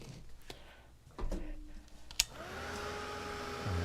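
A heat tool blows steadily to dry a second coat of red paint on a craft project, starting after a few clicks and knocks and running as a continuous close whir to the end.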